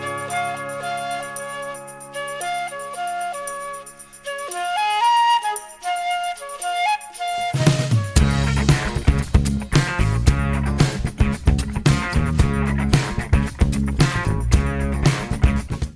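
Studio musicians' recreation of a lost song, built from a singer's remembered version: a melodic keyboard line plays alone at first, then a full band with drums and bass crashes in, loud and dense, continuing steadily to the end.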